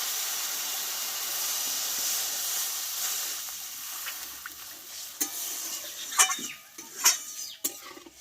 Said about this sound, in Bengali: এবার এটা আমি একটু অল্প জল দিয়ে দেবো